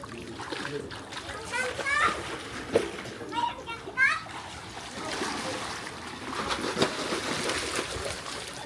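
Children splash in a resort pool at a birthday celebration, with repeated splashes and watery churning under children's chatter and shouts close by.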